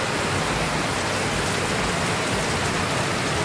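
Heavy, storm-like rain pours in a steady, dense roar that stays constant from start to finish, loud and close, with no voices.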